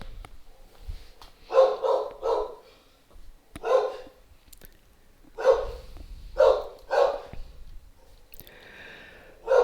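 Dogs in a video game bark in short bursts of two or three yaps with pauses between, fairly close and clear, followed by a brief whine at the end; no talking.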